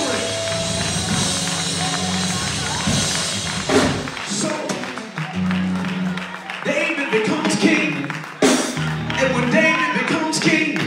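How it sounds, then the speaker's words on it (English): Church congregation clapping hands during a sermon, a busy wash of claps and thumps mixed with shouts and voices, rising and falling in waves with loud accents. "Clap your hands, church, and give him glory"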